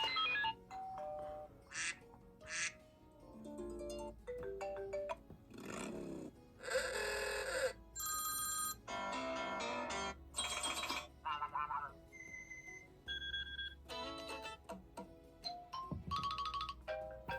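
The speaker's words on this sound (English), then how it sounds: "those are the iOS 6 and 7 ringtones for you" A run of phone ringtones plays one after another: short chiming, marimba-like and electronic melodies separated by brief pauses.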